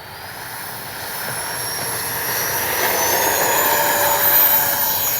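A Freewing L-15 RC jet on 4S power takes off with flaps set, its steady electric ducted-fan whine rising slowly in loudness over several seconds, a high thin tone sweeping upward above a broad rushing roar.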